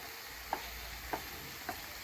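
Minced meat and onions for hawawshi frying in a pan, with a low steady sizzle broken by four evenly spaced scrapes of the spoon stirring them together, close and quiet, with no talk.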